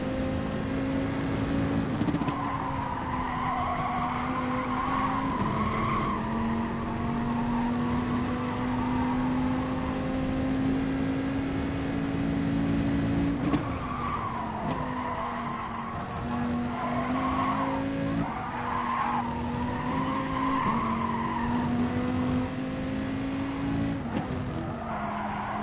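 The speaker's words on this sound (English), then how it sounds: "Did you notice the sliding? The four-wheel sliding?" A race car at Spa in a racing video game holds a steady engine drone while its tyres squeal through long four-wheel slides. The sliding comes in stretches with brief throttle changes between them.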